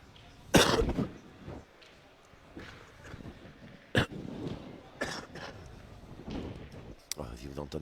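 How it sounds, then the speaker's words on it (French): Someone nearby coughs several times in short bursts, with harsh throat clearing, at a petanque tournament in Sète. Voices murmur through the gaps and faint crowd noise sits in the background. "Si vous entendez un peu tousser"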